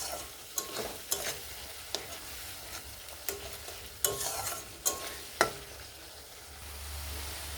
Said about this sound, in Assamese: আৰু এতিয়া মই মছলাখিনি 2ৰ পৰা 3 মিনিট টাইম ভালকৈ ফ্ৰাই কৰি ল'ম।